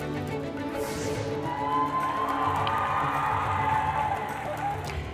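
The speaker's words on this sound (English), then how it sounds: "The King and Queen greeted by welcoming crowds in Canberra" Welcoming crowds in Canberra cheer and shout for the King and Queen, a dense sustained roar of voices with whoops rising and falling throughout.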